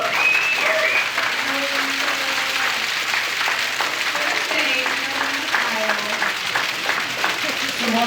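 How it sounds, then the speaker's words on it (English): A room full of people gives a big round of applause for a friend named Marshall, steady dense clapping that stays loud and even throughout, with some voices mixed in. "Can everyone give our friend Marshall a big round of applause?"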